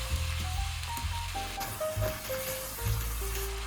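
Shredded eel stir-fried with sauce in a wok, a steady loud sizzle with scraping and tossing clatters, alongside faint background tones.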